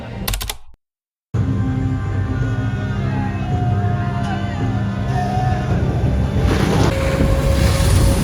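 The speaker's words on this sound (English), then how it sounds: "look how close you get to the rapids" Rushing rapids roar steadily beside the Speed water coaster at Energylandia, a loud continuous wash of water and wind buffeting the microphone, broken by a brief silent gap near the start, with tonal ride or motor hum underneath.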